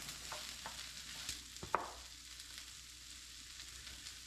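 Butter sauce with garlic simmers down in a pan, a faint, soft sizzle throughout with a few light clinks and one sharper utensil tap near the middle, no talking.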